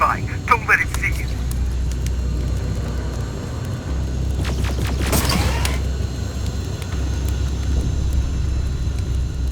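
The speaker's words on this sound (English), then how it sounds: "HK aerial flying by." Low mechanical drone of an HK aerial hunter-killer machine passing overhead in Terminator: Resistance, a steady rumbling hum that swells around the middle with whooshing bursts, amid creaks and ambient noise.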